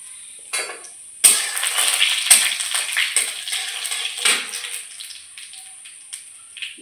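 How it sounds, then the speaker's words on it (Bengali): Nigella seeds hit hot oil with a sudden loud sizzle and crackle, settling into a steady spitting fry with scattered pops for several seconds before fading. "তেল দিয়ে দেবো কালো জিরে ফোড়ন,"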